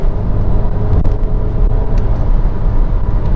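A 2019 Audi Q3 under full power out of a corner, its engine a loud, steady, close roar with road and tyre noise beneath and no talking.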